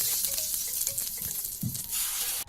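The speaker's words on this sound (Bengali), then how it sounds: "সার্ভ করার আগে জাস্ট পকোড়াগুলো দিয়ে আমি ওপরে ফোড়নটা ঢেলে দিচ্ছি।" Hot coriander and cumin tempering poured onto pakoda kadhi hisses in a loud, steady sizzle with bubbling crackles, cutting off abruptly at the end; no one speaks.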